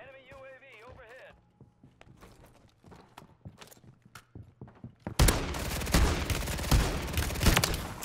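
Gunfire in a first-person shooter, starting as scattered sharp shots and then breaking into a loud, rapid burst of repeated gunshots that runs to the end, with game chatter and a voice beneath.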